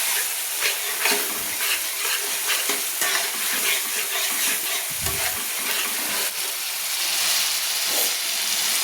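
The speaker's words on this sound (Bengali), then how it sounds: "দিয়ে আবারও ভালো করে নেড়ে নিচ্ছি।" Garlic and ginger paste fries in oil for a pointed gourd and prawn curry, a dense hissing sizzle with steady spatula stirring and scraping up close.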